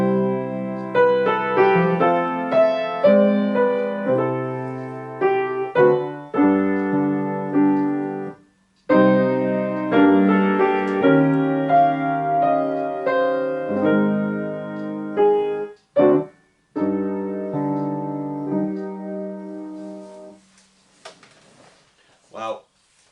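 Orchestra playing the lyrical second subject of Grieg's Piano Concerto first movement, sustained melodic strings and winds in phrases with brief pauses, full and clear without talk.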